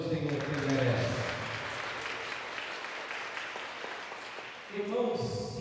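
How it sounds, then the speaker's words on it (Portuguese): A church congregation at a Wednesday evening service applauds together, a steady broad wash of clapping filling the room, with voices and singing heard at the start and again near the end. "E vamos aplaudir o Senhor que merece."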